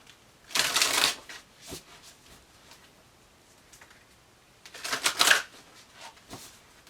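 Oracle cards shuffled and pulled from the deck: two brisk riffling bursts several seconds apart, close and crisp, with faint card taps between and no talk.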